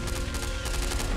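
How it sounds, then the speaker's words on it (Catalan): A dense volley of gunshots fired into the air at the end of a truce in Spanish Civil War archival footage, heard as a rapid crackling fusillade of overlapping reports, steady and moderately loud throughout with no talking. "uns trets a l'aire com a fi de treva"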